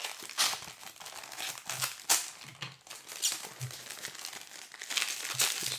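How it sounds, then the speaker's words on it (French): A plastic packet from a monthly arcade subscription box is opened by hand, giving close, quiet crinkling and rustling that keeps going with small bursts of crackle and brief tearing. "je vais quand même ouvrir le sachet"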